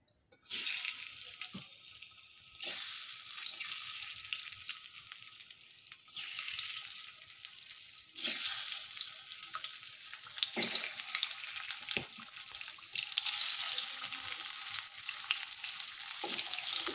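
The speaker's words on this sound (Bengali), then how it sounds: "আমি মাছগুলো ভেজে নেব" Fish frying in a pan in a home kitchen, a steady loud sizzle with crackling that runs nearly the whole time, broken by a few short dips and clicks of handling.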